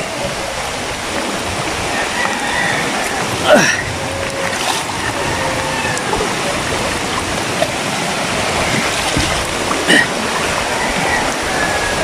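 Overflowing river in flood, rushing water roaring steadily and broadband throughout, with a few brief splashes and faint voices mixed in.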